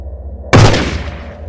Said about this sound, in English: A gunshot echoes throughout the warehouse